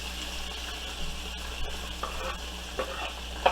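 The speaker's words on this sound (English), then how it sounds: "I'm going to get this sauteed down." Onions, peppers and garlic sauté with chicken in a hot pan, a continuous close sizzle with occasional stirring scrapes and small pops, no talking.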